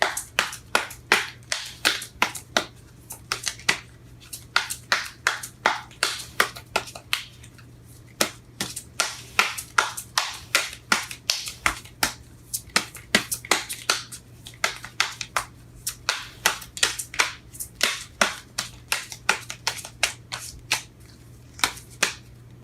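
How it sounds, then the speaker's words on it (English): Tarot cards are shuffled over and over, with repeated quick riffling bursts and flicks in an irregular rhythm, close and moderately quiet. "Shuffling these cards are hard."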